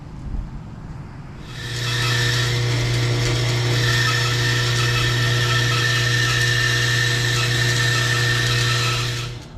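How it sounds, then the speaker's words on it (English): Bandsaw cutting wooden Adirondack chair parts to shape: after a low idle hum the blade engages and a loud, steady whining cut runs on for several seconds, close up, with no speech. "Next thing we do, go to the bandsaw and cut out all the shapes."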